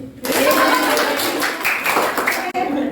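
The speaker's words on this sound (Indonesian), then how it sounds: "Tepuk tangan buat Risa." A group of schoolchildren claps together in a dense burst of applause in a classroom that runs nearly three seconds, with voices mixed in.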